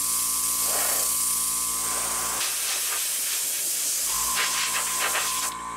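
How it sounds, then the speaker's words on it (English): While a scale model is airbrushed, an air compressor runs with a steady hum and hiss. The airbrush spray cuts in and out in bursts, and nobody talks. "the compressor's making enough noise for both of us"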